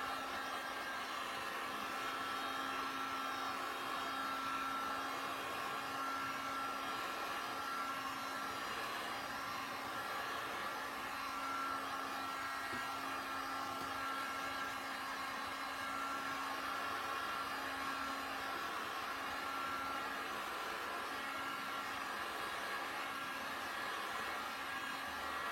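A hot air blower runs in a steady, continuous whir for the whole stretch, evenly heating a plastic plate to soften it, with no voices heard over it.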